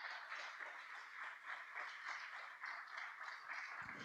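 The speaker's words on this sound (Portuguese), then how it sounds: "vamos aplaudir a Jesus" A church congregation claps together during a worship service, an even, sustained patter of many hands at moderate distance with little talk over it.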